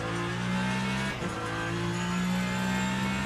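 An LMGT3 race car in the Le Mans Ultimate racing game gives a steady, loud engine drone that dips briefly midway under braking, then holds high and continuous again, with no speech.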